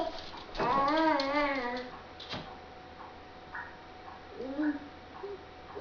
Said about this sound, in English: Uh-oh, 2 dogs now.